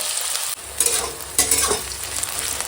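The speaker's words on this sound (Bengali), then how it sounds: "এখন দিয়ে দেবো কেটে রাখা পেঁয়াজ আর কাঁচা লঙ্কা দিয়ে ভালো করে ভেজে নেব" Sliced onions and green chillies fry in hot oil with whole garam masala and bay leaves, a loud steady sizzle with intermittent scraping stirs, close by and with no talk.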